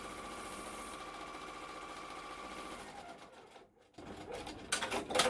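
A sewing machine runs steadily, stitching quilt fabric into place with a continuous whirring hum that dips briefly near the end before resuming louder, with no voices present.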